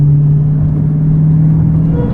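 A Dodge Challenger Hellcat cruising from inside the cabin, with a steady low engine drone and road rumble holding constant throughout, no voices over it.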